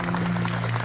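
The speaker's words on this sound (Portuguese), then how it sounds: "Aê, uma salva de palmas!" Applause from a podcast audience welcoming two guests onto a Quimbanda Congo episode, a brief steady wash of clapping with crowd noise and no talk.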